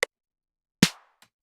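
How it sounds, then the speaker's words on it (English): A squeaking office chair creaks once in a short, loud burst that fades quickly, with a faint click after it and a brief tick near the start, heard alone in a quiet room. "That's my chair. It's squeaking."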